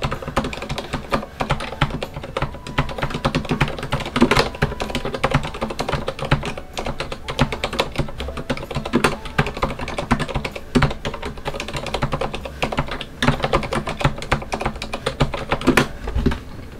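Fast, continuous, hard typing on a quiet mechanical keyboard with silent red switches, firm keystrokes making a dense clatter of muted clicks close by, no voices.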